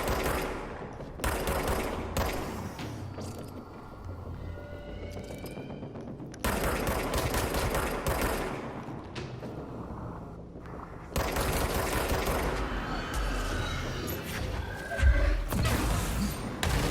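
Heavy hand cannon gunfire in a video game, booming in repeated bursts of sharp, crashing shots with dense impacts throughout, loud and close, with a particularly hard blast near the end.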